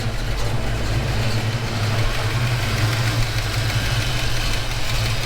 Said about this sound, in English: there's definitely a bit of a tick over here